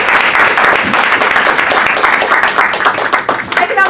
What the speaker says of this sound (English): Give Sonia a big round of applause.